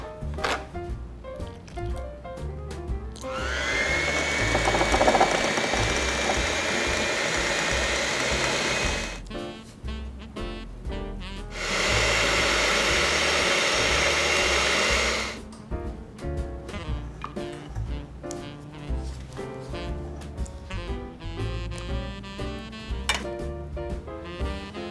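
Electric hand mixer whirring loudly through pumpkin pie filling in two sustained bursts of several seconds each, separated by quieter handling and clatter in between.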